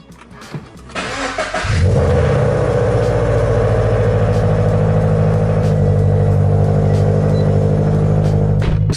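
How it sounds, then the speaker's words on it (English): A Subaru BRZ fires up on a cold start as it is pulled out of a garage, the starter whir and catch followed by a loud, steady high idle rumble that fills the rest of the clip up close. "those cold starts in this car are so brutal."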